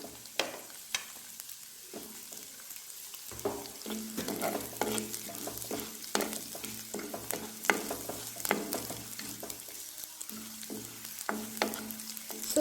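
Green chillies frying in hot oil for a sardine fish curry, a soft steady crackle and sizzle with scattered sharp pops, close but fairly quiet, no voices.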